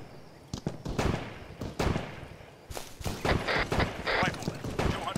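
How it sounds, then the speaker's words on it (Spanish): Airsoft gunfire during a team skirmish game, with sharp bursts of shots crackling in quick succession across the whole stretch, mixed with people talking and calling out nearby. "estamos recibiendo ya disparos del enemigo"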